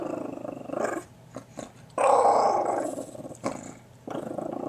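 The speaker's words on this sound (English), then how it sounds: "Your own professional guard dog." A guard dog growls in loud, close, rumbling bursts, with a long sustained snarl in the middle between shorter growls, and no talking.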